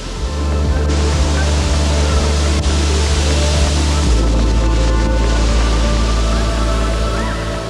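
A steady, loud roar of rushing water fills the whole stretch, a continuous broadband wash with a deep low rumble, from Mallali Falls near Coorg, Karnataka, heard from far off.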